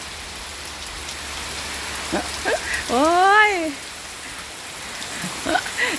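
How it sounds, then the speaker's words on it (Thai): Wind-driven rain blows into a house as a steady, close hiss of heavy rainfall. Midway through, a woman lets out a drawn-out exclamation over it, and a few faint scattered voice sounds follow. "ลมพาฝนมาเข้ามาในบ้าน"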